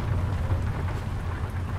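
Steady rain falls in the Euro Truck Simulator 2 driving game, a dense, even hiss that continues without pause and with no voices.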